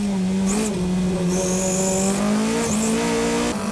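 Toyota AE86 Hachi-Roku race cars braking into the first corner at Tsukuba during an N2 race, engines loud and close, revving and dropping through downshifts with brief high tire squeals over the steady engine drone.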